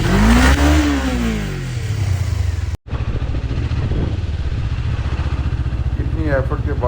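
A motorcycle engine strains and revs as it climbs a steep, difficult forest track, rising and falling in pitch, loud and close, with a brief cut midway.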